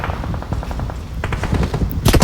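Rapid automatic gunfire in the mobile battle-royale game PUBG Mobile, with quick bursts of loud shots that grow heavier and sharper toward the end.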